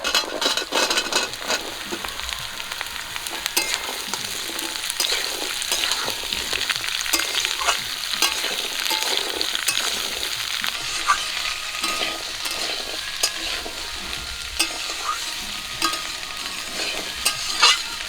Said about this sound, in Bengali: হলুদ গুঁড়ো লবণ লবণ হলুদ দিয়ে ডাটাগুলো একটু ভেজে নেব